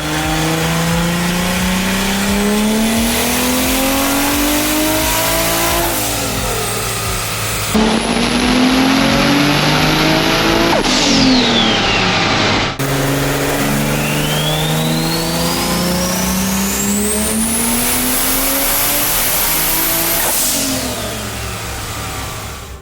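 A stock-block Toyota Supra MK3 with a 2JZ-GTE engine roars loudly on a dyno, climbing through long sweeping revs with gear-like pitch rises, a turbo whine and a brief shifted segment midway, alone without talk.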